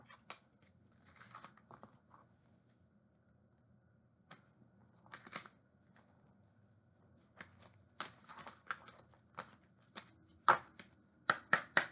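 A tarot deck cut by hand three times, with soft papery riffles and crisp card slaps close up in a quiet room, ending in a quick cluster of sharp taps.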